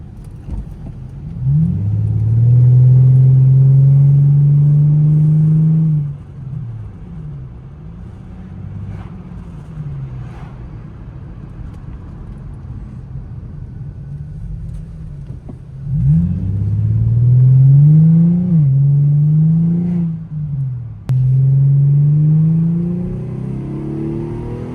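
An Infiniti G35 engine drives and revs up loudly in bursts, with deep rising tones between quieter stretches of steady idling rumble, heard from the driver's seat and without talk.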